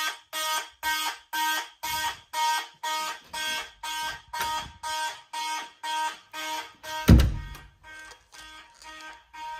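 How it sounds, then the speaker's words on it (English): Fire alarm system horns sounding during a test, loud regular electronic honks pulsing about twice a second, with a brief low thump near the end before the horns carry on slightly fainter, no talk. "the horns are both still very loud"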